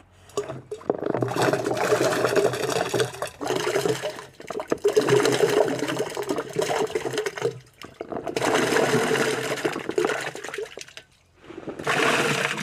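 Water gushes steadily into a 100-litre tank being filled for an amla organic fertilizer mix, a loud, continuous pour that briefly stops and restarts several times.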